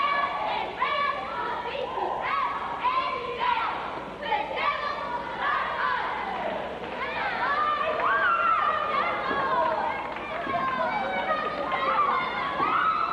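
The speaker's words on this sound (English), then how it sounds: "Let's take a listen to these cheerleaders." High school girls' basketball cheerleaders chant and yell in rhythmic bursts at a 1980s game, their voices loud and close, with crowd chatter and footsteps mixed underneath.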